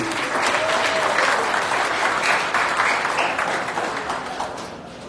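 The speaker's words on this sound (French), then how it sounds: "je vous demanderai, mesdames, messieurs, d'applaudir très fortement" An audience at the inauguration of the Gare du Sud in Les Cayes, Haiti, applauds loudly in a dense, sustained wash of clapping that fades slightly toward the end.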